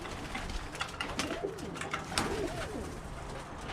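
Birmingham Roller pigeons coo inside a loft, several soft, throaty rolling calls overlapping at close range against a steady low background hum, with no talking.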